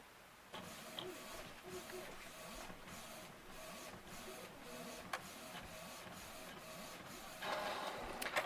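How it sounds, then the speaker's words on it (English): An inkjet-style home printer runs a sheet of water slide decal paper, its steady mechanical whir and shuttling carriage passes going continuously for several seconds, growing louder near the end as the sheet feeds out. "you just hit print, and it's going to send that to the printer"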